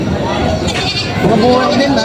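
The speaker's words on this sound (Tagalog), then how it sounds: "Anong lahi ng kambing nito?" Goats bleat at a livestock market in Padre Garcia, Batangas, their calls overlapping under steady crowd babble and nearby conversation.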